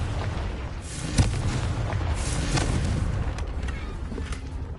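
Confringo blasting spell in a Harry Potter video game, a sharp crack followed by a low rumbling boom over a dense roaring background, fairly faint overall and without talk.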